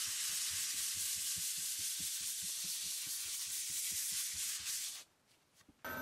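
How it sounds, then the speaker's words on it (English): Light hand sanding of a polyurethane finish between coats, a steady back-and-forth scratchy rasp in quick even strokes, close by, stopping abruptly near the end. "So I'm gonna give this a real light sanding before I do the second and final coat."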